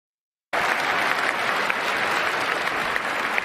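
Sudden dense applause from a large crowd during an inaugural speech, starting abruptly after a moment of silence and holding steady and loud to the end.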